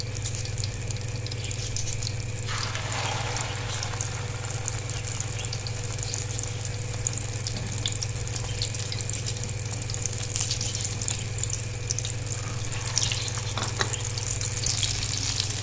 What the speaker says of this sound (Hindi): अब हम इसमें अपने कबाब अंडे में डिप करेंगे और इसमें डालते जाएंगे